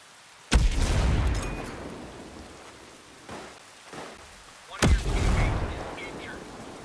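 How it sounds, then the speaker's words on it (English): Grenade blasts in the shooter game Ghost Recon Breakpoint during PvP play, a sharp booming explosion with a rumbling tail, a few softer thuds, then a second loud blast that rolls away. "Throwing a grenade."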